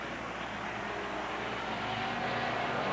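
Race cars at Holland Speedway in a 1994 Challenger heat run wheel to wheel out of turn four, a steady, loud engine roar filling the whole stretch without a break.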